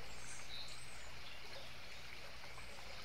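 A gentle river stream flows and trickles in a steady, even wash, with faint birdsong chirping now and then in the background.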